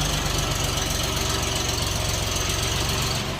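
A Bulat 244 mini tractor's small KM385 diesel engine runs steadily at close range, a loud rhythmic knocking chug that holds constant before easing off slightly at the very end.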